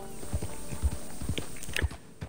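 Horse hooves clip-clop in a steady walking rhythm across a wooden porch in a Red Dead Online town, fairly close, with soft ambient game sounds and no talking.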